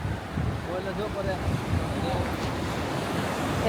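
Sea waves washing onto a sandy shore, a continuous close surf roar mixed with wind buffeting the microphone, with faint voices in the background.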